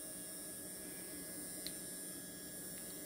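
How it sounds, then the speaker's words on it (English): A Tamiya Sport-Tuned 370 brushed motor runs smoothly on 3 volts, giving a faint, steady electric hum and whine, continuous and even throughout with no other sounds. "Again, very smooth running motor."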